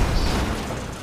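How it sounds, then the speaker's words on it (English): Fireworks bursting in the video game GTA 5, a dense, loud continuous rumble of booms and crackle that holds steady for about a second with no talk over it. "Fireworks."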